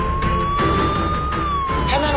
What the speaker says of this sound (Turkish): Polisler de hemen sirenlerini çalıp olay mahalline gelsin.